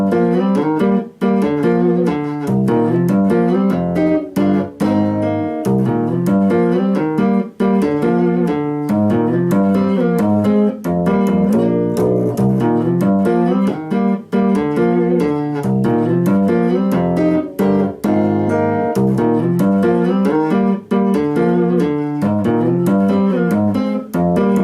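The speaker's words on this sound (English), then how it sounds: "So the first 15-8 section sounds like this." Distorted metal guitar riff in 15/8 time, played with drums in a loud, dense, continuous groove of chugging, irregularly grouped accents.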